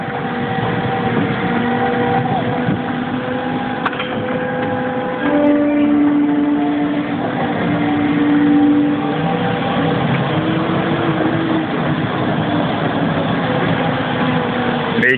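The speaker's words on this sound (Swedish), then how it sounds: "Vilken jävla traktor, den går ju fort som fan" Tractor engine driving fast, a loud close steady drone with shifting tones as it runs along, with brief voices heard faintly over the engine.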